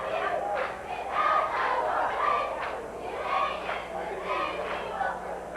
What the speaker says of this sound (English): So the crowd is eagerly awaiting.